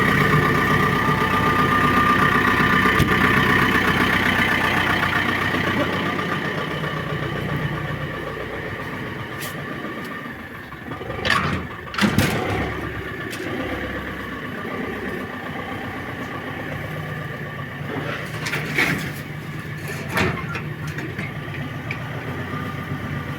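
A grain elevator and dryer setup's engine runs at a steady low idle, a continuous rumble with a few brief knocks and bursts partway through.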